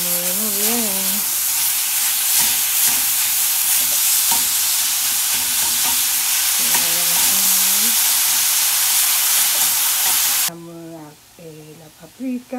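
Ground beef frying and being stirred in a pan, a loud steady sizzle and hiss with scraping stirs, while a person talks in short bursts; the sizzle drops away near the end as speech continues.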